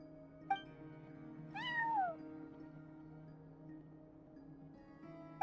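A cat sitting at a front desk in Genshin Impact gives one clear falling meow over a steady game music bed, with soft interface clicks before and after.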